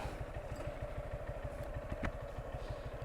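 Motorcycle ridden along a hilly off-road route in Sylhet, its engine putting out a steady, rapid low-pitched chug with rattling clatter throughout, close and continuous.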